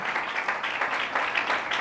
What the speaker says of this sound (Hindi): उस भाई के लिए जोरदार तालियां बजाएं